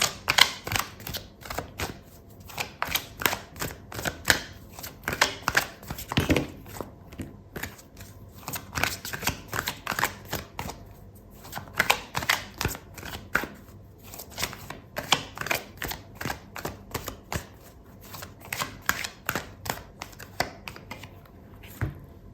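Tarot cards are shuffled and pulled close to the microphone, giving quick crisp riffles and flicks in irregular bursts with short pauses between them over about twenty seconds.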